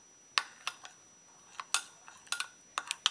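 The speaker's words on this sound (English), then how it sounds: "Just stir, stir, stir." A lumpy soap mixture is stirred in a bowl for a homemade makeup brush cleaner, giving scattered light clinks and scrapes of utensil against bowl in an irregular rhythm, close and quiet.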